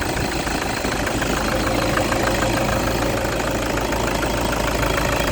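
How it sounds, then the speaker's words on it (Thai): A 2006 Toyota Hilux Vigo single-cab 2.5 diesel pickup engine idles steadily up close, a constant low rumble with a faint knocking rhythm and no voices. "ามาฟังเสียงเครื่องยนต์กัน นะครับ"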